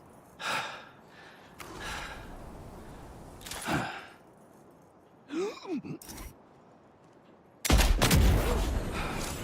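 Sniper rifle shots in Death Stranding 2, several sharp separated cracks spaced across the stretch with a louder sustained burst near the end, alongside breathy grunts and gasps.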